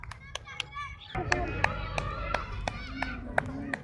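Children at a district-level athletics meet in Barnala, lined up for a 600-metre race, get applause as scattered sharp claps ring out over a busy crowd with chatter and children's voices.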